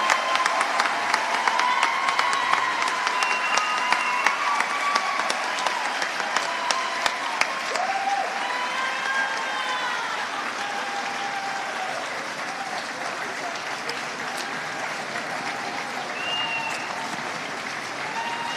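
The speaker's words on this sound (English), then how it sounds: "let's give another round of applause to all of our finalists." Sustained audience applause at an awards evening for teacher finalists, a dense steady wash of many hands clapping that stays loud throughout with faint cheering mixed in.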